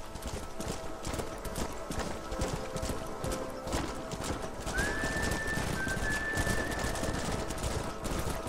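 Horses trotting with steady clip-clop hoofbeats in a Red Dead Redemption game scene, continuous throughout, with a brief high whistle-like tone midway and no clear speech.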